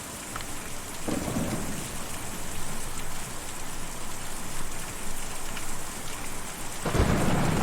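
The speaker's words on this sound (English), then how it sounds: "Difficult to see, or even hear, a storm like that." A thunderstorm in the video game Kentucky Route Zero: steady heavy rain hisses throughout, with low rumbling thunder rolls near the start and a louder crack toward the end, no voices.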